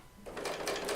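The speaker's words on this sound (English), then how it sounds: "I do have my machine speed turned down to 900 stitches per minute." A serger sewing machine stitches pink quilting fabric at a reduced 900 stitches per minute, starting with a soft whir that ramps into a fast, close mechanical chatter.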